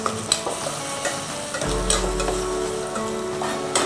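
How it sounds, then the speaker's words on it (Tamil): Onions being sautéed with tomato and green chili for agathi keerai sambar sizzle steadily in a pan, with a spoon stirring and scraping throughout and a louder, fuller frying hiss after the tomato goes in. "இப்போ பார்த்திங்கன்னா வெங்காயம் வதங்கிடுச்சு, தக்காளி சேர்த்துக்கலாம், இந்த பச்சை மிளகாயும் சேர்த்துக்கலாம்."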